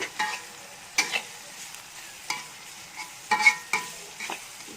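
Garlic frying in a pan, a quiet bed of sizzle broken by several sharp stirring scrapes and spatters at irregular moments, with no voices.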